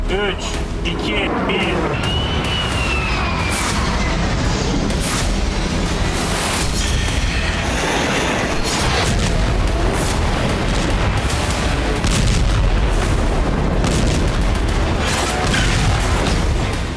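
Explosions from missile and drone strikes on an airfield in wartime, repeated heavy booms and bursts mixed with cracks of fire, dense and continuous, heard under steady talk.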